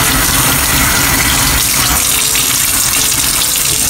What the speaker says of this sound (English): Okay, so just rinse this off.